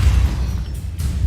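An Incendio fire spell cast in Hogwarts Legacy, a single loud, deep whooshing burst with a rumbling low end that fades briefly, then swells again.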